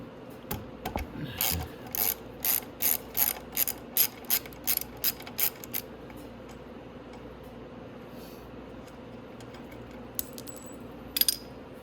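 A ratchet wrench removes 12 mm bolts on a Venom X22GT 250cc motorcycle with a run of about ten sharp rhythmic clicks, close and clear, then a pause and a final quick click burst.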